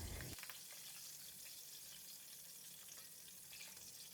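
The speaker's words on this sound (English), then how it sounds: "put in 3 stems of curry leaves and fry them for about 20 seconds" Fresh curry leaves fry in hot oil in a pan, giving a steady close crackling sizzle that holds almost evenly throughout after a brief burst of spitting at the start.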